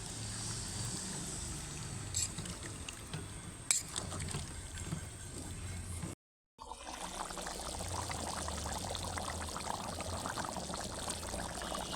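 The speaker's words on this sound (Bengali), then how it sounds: "আলুটা ঢেলে দিচ্ছি" Potatoes are poured into a pot of chicken dum biryani, giving soft wet shuffling and trickling sounds with a brief silent gap partway through; the sound is fairly quiet and there is no talking.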